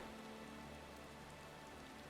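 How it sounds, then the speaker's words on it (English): Steady, dense rainfall in Final Fantasy XIV, a continuous hiss of drops pattering on surfaces, even and unbroken throughout with no voices. "It's raining."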